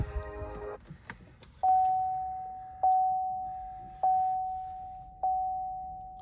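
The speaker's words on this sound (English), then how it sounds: "This car sounds really neat when you start it up." A 2017 Chevrolet Volt LT gives its startup chime inside the cabin. After a brief rustle, four clear, evenly spaced electronic tones ring out, each fading slowly.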